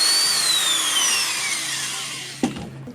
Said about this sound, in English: drill a hole there, if I can do it through soft material without causing all sorts of grief